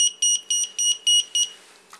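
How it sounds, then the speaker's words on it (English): A BEC power distributor for a model battery setup sounds its alarm after a battery is disconnected: six sharp, loud, evenly spaced electronic beeps in quick succession, then silence. "If I was to disconnect battery 2, I get an alarm to show that the battery shut down."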